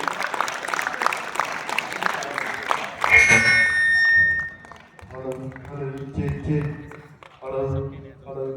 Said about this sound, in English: Please give a huge round of applause for him.